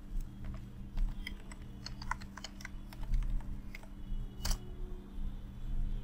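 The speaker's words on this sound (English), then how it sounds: "Type your root password." Keys clicking irregularly on a computer keyboard as a root password is entered during a MariaDB install on Debian 12, with soft, close taps scattered over a low steady hum.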